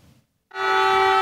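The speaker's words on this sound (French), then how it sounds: "Coup de klaxon, exclamation et accolades" A car horn blares at a general strike protest in Guadeloupe, a loud steady tonal honk that starts abruptly after a brief quiet and holds to the end.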